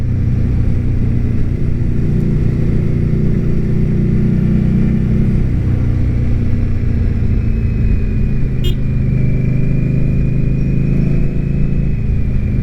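Indian Scout Bobber motorcycle engine droning steadily and loud throughout while riding, a deep continuous rumble with slight rises in pitch.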